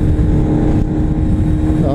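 A Kawasaki Z1000 motorcycle cruising on the road, its engine a steady loud drone mixed with heavy wind rush over the microphone, continuous and close with no pauses.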